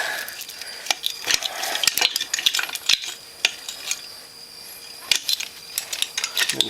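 A hand ratchet clicks in bursts as it works a bearing puller on the swingarm of a Honda Recon 250 ATV. The sharp metallic pawl clicks come up close and loud, with short pauses between strokes.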